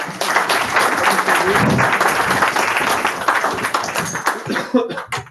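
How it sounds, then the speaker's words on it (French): A conference audience gives sustained, loud applause, a thick wash of clapping with a few light laughs mixed in, thinning into scattered claps and brief voices near the close. "On peut les applaudir encore."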